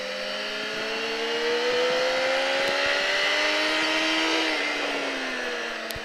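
Motorcycle on a race track at Alès, engine note holding steady and climbing slightly through a corner, loud and continuous without speech.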